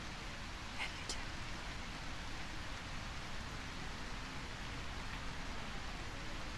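Steady rain in the post-apocalyptic video game A Quiet Place: The Road Ahead forms a constant, even hiss that fills the scene, with a couple of faint brief tones early on.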